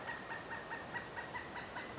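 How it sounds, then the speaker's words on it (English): A pileated woodpecker calls from somewhere in a forest, giving a rapid series of repeated high notes in a steady rhythm. The calls sound faint and distant over quiet background noise. "this pileated woodpecker would shut up"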